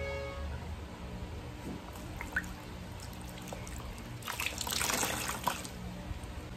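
Water trickles softly during a bed bath, a steady faint dribble that swells into a brief louder splashing pour near the end, with no talking.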